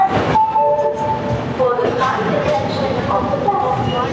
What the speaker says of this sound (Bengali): দেখলাম ট্রেনটা আবার ছেড়ে দিল এখান থেকে